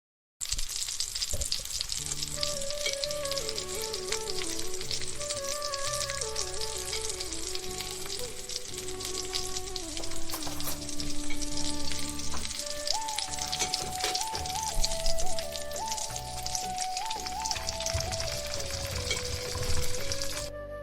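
Puris for halwa puri fry in hot oil, a loud continuous close sizzle and crackle, while devotional music with a melodic instrument plays throughout for a Navratri story; no one speaks.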